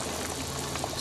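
Sake poured into a simmering pot of stewed pork intestines with daikon, carrots, konjac and mushrooms, a soft steady bubbling and liquid hiss lasting about a second, close by and without talk.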